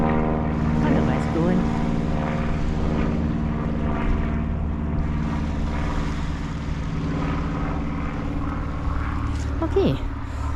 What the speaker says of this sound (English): Oh, and there's a plane up there.